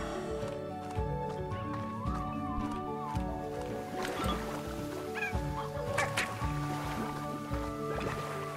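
Gestrüpphuhn chicken from the game Slime Rancher clucking in short repeated bursts over layered game music and ambient tones, moderately loud and close.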